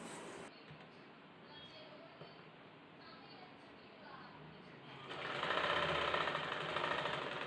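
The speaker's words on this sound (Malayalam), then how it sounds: "ഇതേപോലെ തന്നെ ഇതിൻ്റെ മറ്റേ സൈഡും നമുക്ക് എക്സ്ട്രാ ഉള്ള പീസ് വെച്ചിട്ടൊന്ന് സ്റ്റിച്ച് ചെയ്ത് കൊടുക്കാം" A sewing machine runs steadily while stitching a fabric piece for a homemade reusable face mask, a close mechanical whirr with rapid needle rhythm that grows louder and denser in the final seconds.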